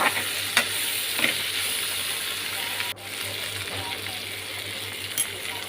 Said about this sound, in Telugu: టమాటా క్యారెట్ ఉల్లిపాయ పాలకూర అన్నీ మొత్తం అన్నీ బాగా కలుపుకుంటూ ఉండాలండి